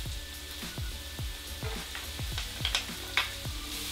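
Garlic sizzles in a pan with caramelized onion, a steady loud frying hiss broken by a run of regular stirring or scraping taps, close up and with no talk.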